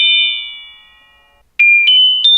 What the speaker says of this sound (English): it's almost like a bell sound.